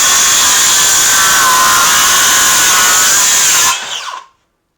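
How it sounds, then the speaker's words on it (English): A cordless Makita saw cuts through a scrap 2x4, a loud continuous whirring buzz that holds steady for nearly four seconds and then quickly winds down to silence. "I didn't feel the saw bog down at all."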